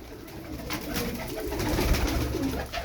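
Iraqi webbed-foot tumbler pigeons coo softly inside a coop, a low continuous murmur with some fluttering and rustling, close by and without speech.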